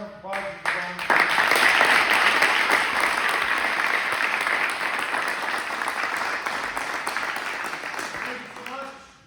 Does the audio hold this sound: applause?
yes